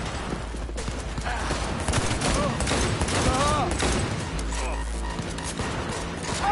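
Sustained gunfire fills a firefight in the video game Cyberpunk 2077, a dense, loud stream of rapid shots and impacts layered with shouting voices throughout.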